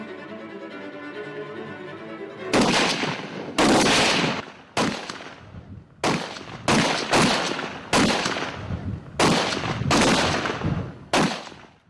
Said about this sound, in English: 60 seconds you have to fire all those 10 rounds.